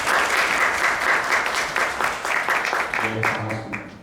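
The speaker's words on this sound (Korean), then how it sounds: "큰 박수 부탁드립니다." An audience at a Korean energy-transition lecture applauds to welcome the head of the Korea Institute of Energy Technology Evaluation and Planning; loud, dense clapping runs throughout and thins slightly toward the end as a voice begins over it.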